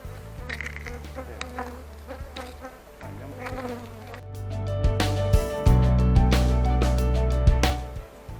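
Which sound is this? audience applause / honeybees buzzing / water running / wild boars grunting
honeybees buzzing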